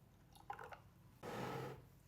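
Ube poured into toasted almond milk: a few small drips and squishy liquid sounds, then a short, soft splashing pour lasting about half a second, quiet and close with no talking.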